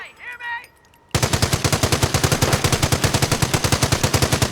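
Rifle gunfire in the Company of Heroes strategy game: a brief voice, then a loud, rapid, sustained volley of shots cracking in a steady rhythm.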